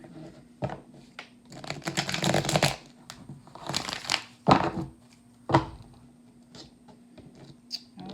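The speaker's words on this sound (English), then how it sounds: "Shuffle one more time." Crisp bursts of tarot card shuffling, papery riffles and flicks clustered in a few quick runs with pauses between, close and fairly quiet.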